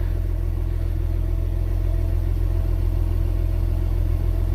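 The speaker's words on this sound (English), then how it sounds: "So at idle, the Ford Explorer stays at or around the mid 80s in the decibel reading" A Ford Explorer engine idles nearby, a steady low rumble that holds an even pitch throughout with no voices.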